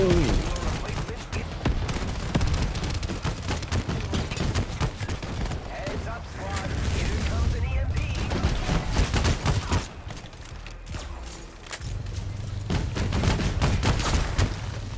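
Turret gunfire in the co-op shooter game Shatterline, dense continuous rattling bursts and booms throughout, loud and layered with other game effects.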